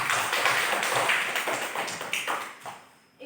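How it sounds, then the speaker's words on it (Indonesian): A classroom of students claps together at the end of a lesson, a dense patter of many hands that holds steady for about three seconds and then thins out. "Tepuk tangan untuk kita semuanya."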